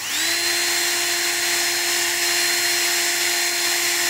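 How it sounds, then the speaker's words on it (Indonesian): Electric drill running continuously at high speed, loud and close, a steady whine that rises slightly at the start and then holds an even pitch. "kemudian pakai bor ya"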